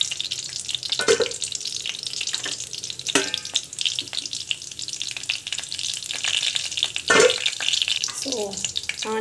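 Mustard seeds frying in hot oil, a continuous soft sizzle with faint crackles and occasional stirring clatter, close and moderately quiet, with a brief bit of background noise near the end.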